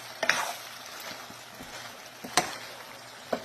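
Pork ribs fry in their own rendered fat for a spicy binagoongan, giving a faint steady sizzle with a few sharp clattering stirs, quiet and close, with no talking.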